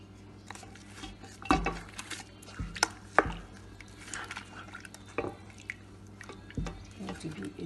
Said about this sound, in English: I'm going to mix everything up.